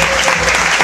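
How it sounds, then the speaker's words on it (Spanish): Dense, loud applause from an audience for Armel and his orchestra at a closing show, a brief burst of clapping with no pause. "fuerte el aplauso para Armel y su fabulosa orquesta"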